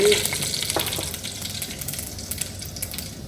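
Mustard seeds and cumin sizzling in hot oil, a crackling fry with scattered pops and a few louder spits at the start, fairly close.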